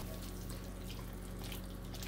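Water pours steadily into a cooking pan, a close, even hiss and splash with no speech over it.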